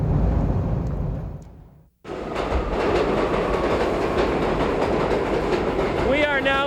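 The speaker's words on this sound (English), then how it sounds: "We're in the New York City subway" A New York City subway train rumbles loudly through a tunnel, its steady roar broken by a brief drop in noise, with a high squeal of wheels near the end.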